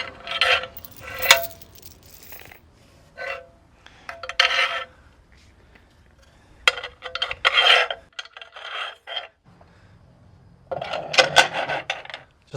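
Small metal bolts scrape and rasp as they slide into the grooves of a retractable truck bed step, in several short bursts of close, grinding friction separated by quiet pauses.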